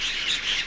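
A mimicking bird gives a harsh, close squawking call in one continuous burst, loud and raspy, with no voices present.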